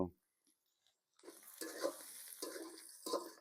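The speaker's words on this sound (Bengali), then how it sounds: "পেঁয়াজ মরিচগুলো তেলে একটু ভেজে নিব" Onions and chilies dropped into hot oil for biryani: near-silence, then a sudden bubbling sizzle with scraping stirs that swells and fades in bursts, fairly close and moderately loud.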